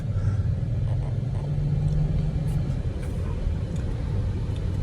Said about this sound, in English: why the hell is he speeding in that damn minivan?